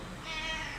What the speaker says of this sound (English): amazing, wonderful cat.